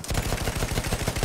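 A Battlefield 1 anti-aircraft gun hammers out a rapid, evenly spaced stream of heavy shots, loud and close across a brief burst without speech.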